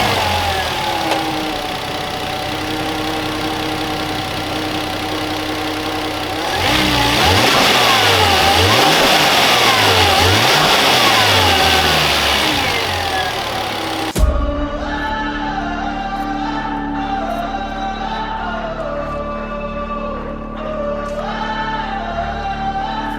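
A Volvo S80 T6 engine with a stock air intake idles, then revs up and down in several swells, its mid-pitched engine note loud and close before settling back to a steady idle hum.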